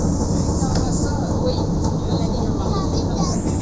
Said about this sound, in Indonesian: keliling kota Brussels pakai tram ini